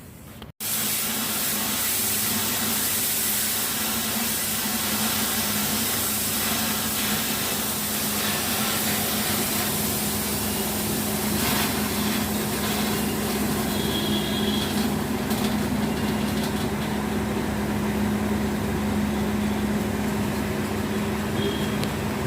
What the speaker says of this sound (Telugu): చూశారు కదండి, ఆవిరి ఆ సౌండ్ చూసారు ఎలా వస్తుందో